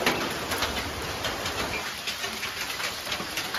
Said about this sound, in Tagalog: May mga bird din kami.